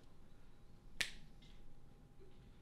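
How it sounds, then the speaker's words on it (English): A single sharp finger snap cracks out close and clear during a magic performance, standing alone against a faint, quiet room background. "I'm going to snap my fingers"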